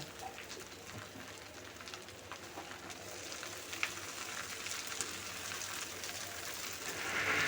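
Hog plum (amra) peels frying in onion and garlic, a faint, steady sizzle and crackle in the pan with light scattered pops, growing slightly louder at the end.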